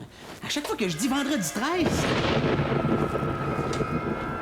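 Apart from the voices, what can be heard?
thunder sound effect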